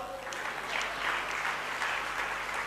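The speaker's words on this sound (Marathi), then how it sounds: "यानंतरच्या टाळ्या व्हिडिओवाल्यासाठी वाजवा." Steady crowd clapping at a public talk, moderately distant and fairly soft, continuing evenly throughout with no voices.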